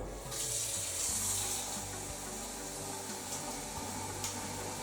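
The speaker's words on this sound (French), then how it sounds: "vous remplissez jusqu'au niveau maxi avec l'eau du robinet." Tap water runs steadily into the tank of a Déli-Pure pet water fountain, a continuous broadband splashing and hiss that starts abruptly and carries on evenly throughout, close and fairly loud, with no talking.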